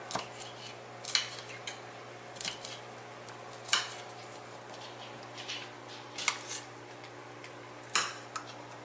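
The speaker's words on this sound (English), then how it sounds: "Cut that green pepper up. Cut it up nice and small" A knife chops a green pepper into small pieces on a cutting board, with a handful of sharp, separate cuts spaced a second or two apart over a quiet background hum.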